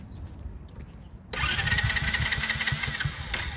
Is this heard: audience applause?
no